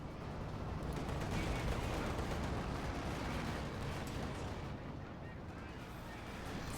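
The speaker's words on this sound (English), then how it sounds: "the lower gun leader squad's about to get assaulted here by all of Delirious' machine guns" Dense, continuous battlefield gunfire from Company of Heroes 2, with machine guns and heavy weapons blending into a steady roar that stays distant and fairly quiet throughout.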